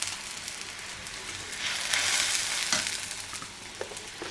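Ginger paste fries in a pan over a high flame, giving a continuous soft sizzle that swells in the middle with a few crackling pops, fairly quiet and without talk.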